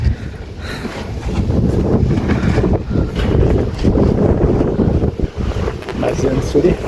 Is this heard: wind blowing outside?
yes